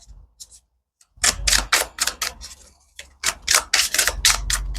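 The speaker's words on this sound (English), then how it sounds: "one more shuffle" Tarot cards riffled and shuffled in several quick, papery bursts close by, with a short pause between rounds and near-silence at the start.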